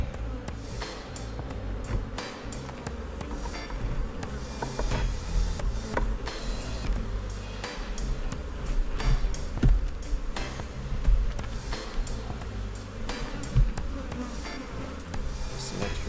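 A honey bee swarm in a beekeeping yard hums loudly and continuously around hive frames, with dense close buzzing and scattered knocks and clicks as frames are handled.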